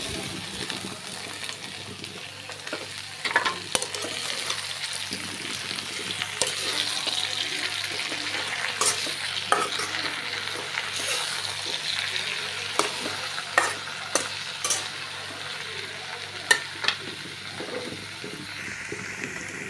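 Freshly picked jute greens fry in a pan with fried onion and salt, making a continuous sizzle with scattered sharp scrapes and clinks of stirring throughout.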